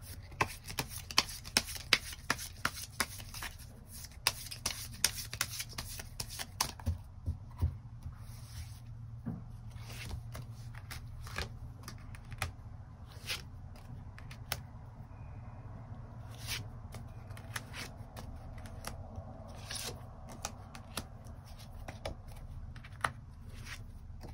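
Tarot cards are shuffled and rubbed together in a quiet room, with rapid papery riffles and slides that come densely at first, then thin out into sparser shuffling strokes and soft rustles.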